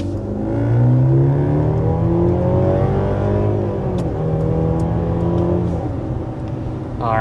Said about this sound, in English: first we need to go ahead and start with a hard acceleration